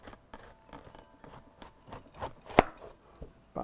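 Knife slicing thinly through red cabbage on a cutting board, a quick irregular series of crisp crunching cuts with one louder chop near the end, close and without speech.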